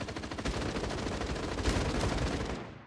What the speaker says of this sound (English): there's just a bunch of gunshots over at Site A